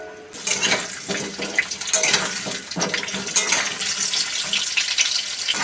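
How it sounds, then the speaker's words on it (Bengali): Potatoes frying in hot mustard oil in a wok give a dense, continuous sizzle that holds steady throughout, close and fairly loud, with no talking. "আলু লাল লাল করে ভেজে নেব।"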